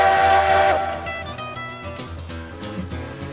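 Steam locomotive in the game Railroads Online, a sustained whistle tone sounding loudly at first and fading within a second, followed by a mix of rhythmic chuffing and mechanical rail noise continuing at moderate level.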